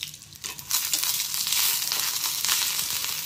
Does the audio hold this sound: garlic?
yes